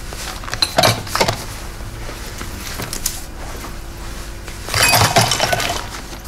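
A blender breaking with glass shattering in a home kitchen, heard as two sharp crashes with clinking shards, the second one louder and longer, and no talk.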